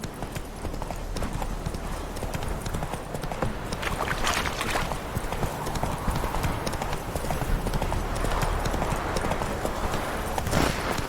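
Roach's hooves clip-clop in a fast, steady gallop, loud and continuous throughout, with faint voice and ambience behind the riding in The Witcher 3: Wild Hunt.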